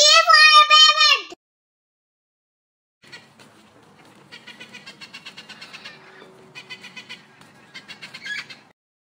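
A parrot squawks loudly and harshly at first, then after a pause comes a run of quieter raspy, rhythmic squawks and chatter that continue to the end.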